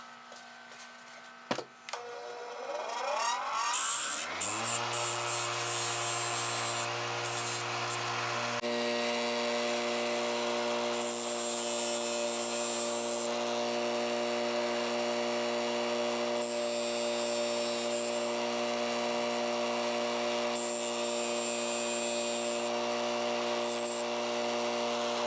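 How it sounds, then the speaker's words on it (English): Bench grinder spinning up, then a steady loud motorized whir with bursts of rasping as plastic tabs on a Dyson DC78 vacuum part are ground away. "So we'll just grind these off on the bench grinder."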